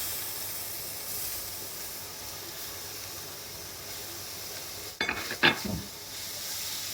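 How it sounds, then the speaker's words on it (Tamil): Onions softening in hot oil in a pan with curry leaves and fennel seeds for a Tamil chicken biryani, a steady quiet sizzle throughout, with a brief burst of louder stirring and clatter near the end. "இப்போ வெங்காயம் வதங்கி வந்துட்டுது."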